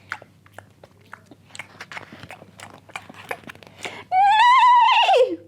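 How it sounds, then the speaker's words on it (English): A brown horse chews clumps of hay in a series of close, crisp crunching bites over a low hum, then lets out a loud, drawn-out whinny at the end. "He settled on a brown horse, chewing clumps of hay."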